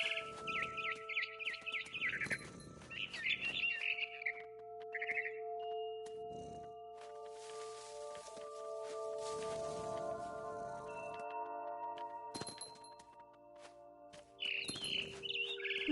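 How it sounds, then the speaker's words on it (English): Barn swallow chirps in What Remains of Edith Finch: short high twittering bursts come in clusters near the start and end, over sustained tonal game music and ambient drones, with no talking. "Then I heard chirping outside my window. It was a barn swallow going back to her nest."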